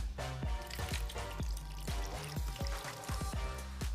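Water running through an anti-gravity fountain gadget, a steady close trickle with repeated small drips and splashes falling in an uneven rhythm, with no talking.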